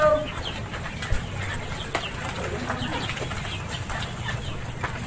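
A male lovebird preening after bathing in the rain makes faint scattered chirps and brief rustles over a steady outdoor background hiss.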